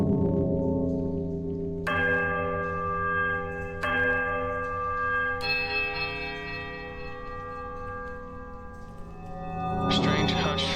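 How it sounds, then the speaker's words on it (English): Temple bells in the fantasy game Pillars of Eternity toll in a layered, dissonant peal, with loud bright strikes landing roughly every two seconds and ringing tones sustaining beneath them, swelling toward the end. "a sudden dissonant toll sounds from the bells, so loud and piercing that you are compelled to cover your ears"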